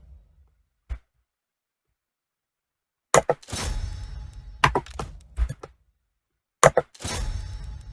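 Dwarf Thunderers firing their guns in Total War Warhammer II: sharp, loud cracking shots in short bursts, each followed by a rumbling, crackling tail, with near-silent gaps between the volleys.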